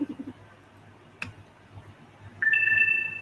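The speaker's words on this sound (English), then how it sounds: "that's my phone chirping because it's going dead" A phone with a dying battery gives a short chirping tone near the end, preceded by a sharp click and faint ticking in a quiet room.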